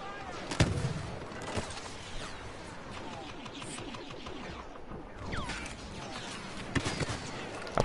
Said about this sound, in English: That was a good shot from the scatter gun there.